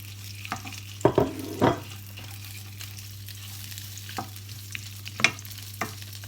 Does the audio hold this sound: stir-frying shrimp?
yes